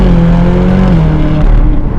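A Ferrari California's engine roars loud and close from inside the cabin, a steady sustained drone with a slight pitch drop partway through.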